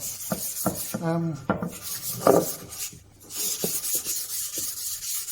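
Fine 400 grit sandpaper rubbing over a wooden bread board, worked all over and around the corners with the grain; close, soft rasping strokes in short bursts with pauses, no talking.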